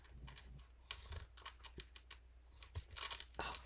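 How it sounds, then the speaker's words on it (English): Quiet, repeated snips and rasping cuts of scissors through tulle, irregular bursts with brief pauses, close up. "Hopefully my scissors will cut through it nicely."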